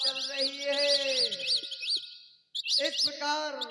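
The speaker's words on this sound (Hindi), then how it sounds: "चिड़िया बोल रही है वन में," Birds chirping and warbling in a forest, a run of bright, rapid trilling calls that breaks off briefly and then resumes, close and fairly loud with no other sounds.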